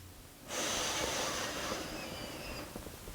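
A single slow, deep breath drawn during a Kundalini Ek Ong Kaar meditation rises out of near silence and holds as a steady airy rush for about two seconds before easing off.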